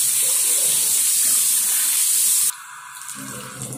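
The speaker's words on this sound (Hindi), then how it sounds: "चलिए इसको धो लेते हैं।" Tap water gushes steadily onto a steel utensil being rinsed clean, a loud close hiss and splash that drops abruptly to a softer trickle near the end.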